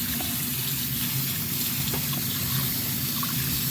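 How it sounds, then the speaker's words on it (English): Running water pours steadily from a tap during a final rinse, a constant close splashing rush with no voices. "Molly, give it a final rinse"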